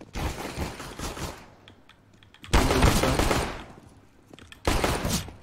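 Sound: gunfire in a first-person shooter video game

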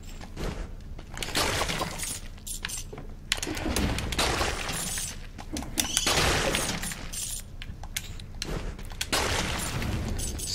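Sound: smashing an enemy in the video game Dead Cells

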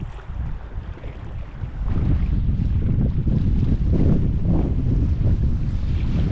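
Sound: wind blowing

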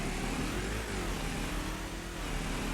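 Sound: motorcycle engine in video game Farming Simulator 25

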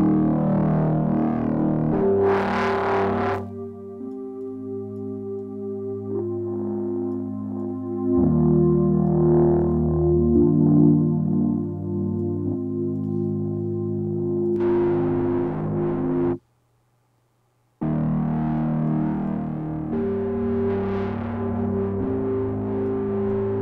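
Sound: distortion effect from IK Multimedia MixBox plugin

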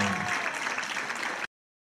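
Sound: audience applause

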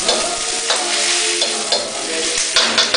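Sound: yellow peppers frying and being stirred in a pan

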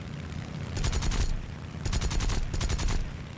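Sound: Zero fighter machine guns firing bursts, video game War Thunder

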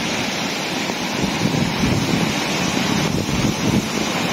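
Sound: raging river rushing near a tent

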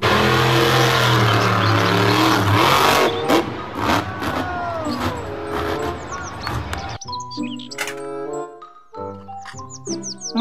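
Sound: monster truck engine revving

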